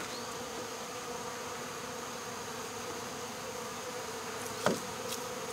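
A swarm of honeybees fans at the hive entrance, a steady, even buzzing drone with a few brief louder passes, no voices.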